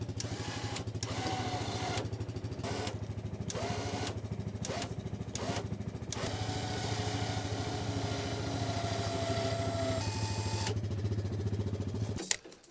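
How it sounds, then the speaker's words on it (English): A winch strains to pull a tree down off an edge, its motor whirring in steady high-pitched runs broken by short pauses, close and fairly quiet, with no talking. "I've got my winch connected to the tree, and I'm hoping that I can winch the tree down off the edge"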